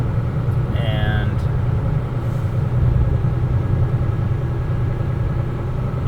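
A heavy truck's diesel engine idles steadily while the air brake system builds pressure back up after a brake test, a continuous low rumble with a brief high chirp near the start and faint voices in the background.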